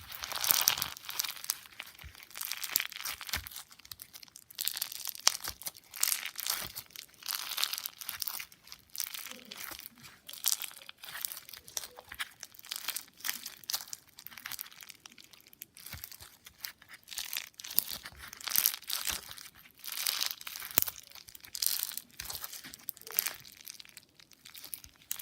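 Crunchy sponge slime being squeezed and squished by hand, a dense run of close crackling, crinkling crunches in uneven bursts that continues throughout.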